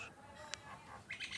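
Faint bird chirps and calls, a few short tweets from a distance over a soft outdoor background, with no voices.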